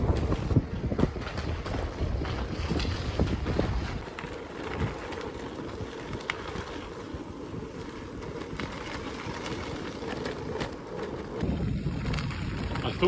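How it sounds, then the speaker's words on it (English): Wind rips through a canyon tunnel as a strong headwind on a bikepacking ride, a loud, continuous rumbling roar buffeting the microphone with gusty surges throughout. "The wind is absolutely ripping through this tunnel, headwind this morning."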